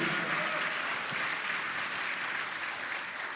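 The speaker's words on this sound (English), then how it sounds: "Let's give a round of applause to all of our students who we honored this morning." Audience applauds for honored students at a Black Caucus student recognition ceremony, a dense, steady wash of clapping sustained throughout at moderate volume, with no one speaking over it.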